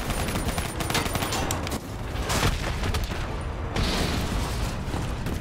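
Intense combat from Black Ops 3 as an APC is destroyed by explosions: dense, loud, continuous gunfire and booming blasts fill the whole stretch, with a heavy impact near the middle and another surge toward the end.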